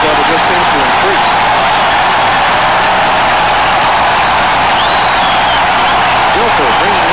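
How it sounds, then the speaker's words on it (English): A college football stadium crowd at a 1993 Fresno State versus BYU game roars in a loud, steady wash of noise, with a commentator talking over it throughout. "they also have a pumped-up crowd as the noise level just seems to increase"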